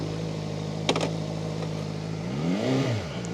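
A Voge RR500S motorcycle with an inline-four engine starts: a low steady hum with a sharp click, then a short swelling rev that rises and falls near the end.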